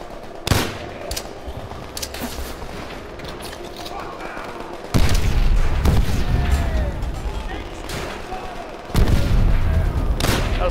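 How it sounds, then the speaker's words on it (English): Gunfire and heavy explosions in the World War II shooter Call of Duty: World at War, with a sharp crack near the start and two loud booming blasts later that carry a rumbling low-end tail over continuous battle noise, and a voice talking. "That was a well placed nade."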